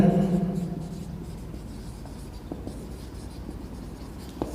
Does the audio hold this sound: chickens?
no